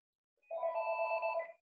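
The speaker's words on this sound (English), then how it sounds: "Please mute whoever, there's a phone in the background." A telephone rings once in the background of an online Windows 10 class, a steady electronic ring of about one second that starts and stops cleanly in otherwise near silence.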